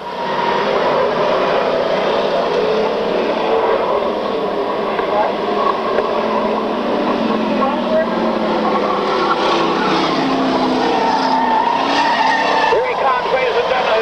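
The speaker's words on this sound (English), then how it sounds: "The rookie driver in the 43, Matthew, learning to handle that Chevrolet automobile. The white flag down, 1 lap remaining" Stock race cars, among them a Chevrolet, run the final lap of a 1995 race, producing a continuous loud roar of engines and tires that stays steady and dense throughout.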